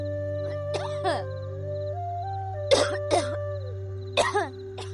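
A sick woman coughs in a village, chilled to the chest. There are five harsh bursts, mostly in pairs, close and moderately loud over a steady sustained musical drone.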